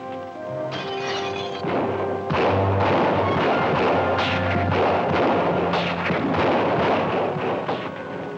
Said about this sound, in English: it can't be just the dame not doing all that shooting